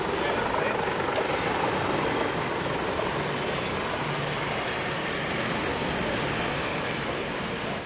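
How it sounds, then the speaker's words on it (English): A helicopter drones overhead on a downtown city street, a steady broadband buzz that holds at moderate loudness throughout, mixed with general traffic and street noise. "Almost sounds like there's a helicopter buzzing overhead."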